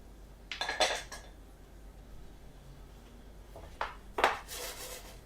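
Two short bursts of rattling and clinking as roast potatoes are shaken in a metal pan, separated by a quiet pause.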